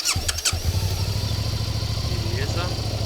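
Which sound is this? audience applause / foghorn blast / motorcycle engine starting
motorcycle engine starting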